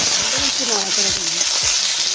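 Eggplant stir-fried in hot oil with black cumin and garlic gives a steady, close sizzle with scraping stirring strokes and a faint voice in the background.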